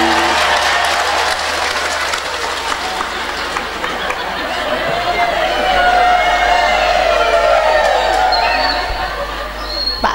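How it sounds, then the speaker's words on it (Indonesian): Audience at an Indonesian comedic religious sermon claps steadily for about ten seconds, a loud, sustained crowd applause with a soft murmur of voices mixed in. "Tepuk tangan dulu dong."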